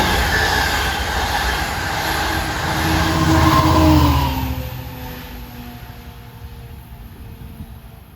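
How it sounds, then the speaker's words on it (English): A Long Island Rail Road train running from Port Jefferson to Long Island City approaches at New Hyde Park during the morning rush, its rumble swelling to a loud peak with faint wheel squeal, then fading away. "This is a Port Jefferson to Long Island City train coming out of the twilight."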